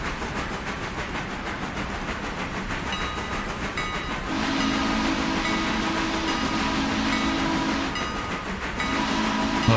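A Mikado steam locomotive in the Railroader train game sounds a sustained whistle over a steady rumble of the engine, with a louder, fuller tone setting in midway and holding steady.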